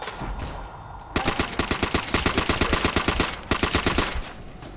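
Rapid automatic gunfire in Call of Duty: World at War Nazi Zombies, loud bursts of evenly spaced shots after a brief quieter lead-in, with a short pause before the firing resumes.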